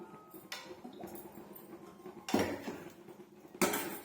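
A metal kadai is set down on a stove, a few sharp clanks and knocks of cookware, fairly close and moderately loud in an otherwise quiet kitchen.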